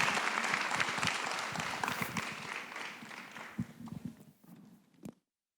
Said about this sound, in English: again, a round of applause for our panelists.